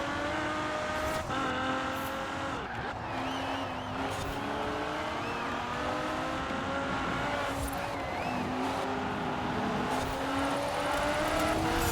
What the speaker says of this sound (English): Got a Bugatti Veyron Super Sport up in first.